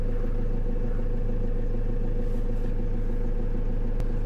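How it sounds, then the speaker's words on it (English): A Euro-market Ford car with a 2.4 engine idles nearby, a steady low rumble with a faint even throb, running alone without any talk. "I actually have the engine running"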